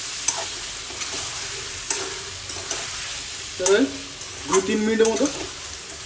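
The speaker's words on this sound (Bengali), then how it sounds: "তো এখন এরকম এটাকে এইভাবে কষিয়ে নেব" Ginger garlic paste sautéing in a pan for mint chicken curry, a constant close sizzle broken by sharp spatula scrapes and clicks, while a voice speaks briefly near the end.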